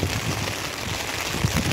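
Heavy rain falling outdoors during chestnut collecting, a dense, continuous hiss of downpour with scattered close drops and splashes.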